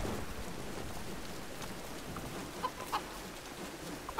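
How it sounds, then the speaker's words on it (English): A chicken clucks in the 2013 Tomb Raider video game, a few short faint clucks in the second half over a steady wash of rain and ambient noise. "I should kill the chicken."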